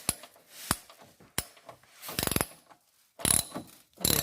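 A ratchet with a 5/8 socket tightens the bolts of an APS iBoard running board on a 2017 Ford Explorer, giving several short bursts of clicking separated by pauses, close and clear.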